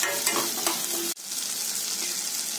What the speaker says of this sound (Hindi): अब हम डालेंगे कटा हुआ टमाटर और टमाटर को भी 3-4 मिनट पकाएंगे।